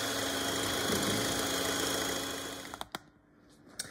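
An electric mixer whips cream for a raspberry pavlova with a steady, close motor whine that cuts out near the end, followed by a few sharp clicks and knocks.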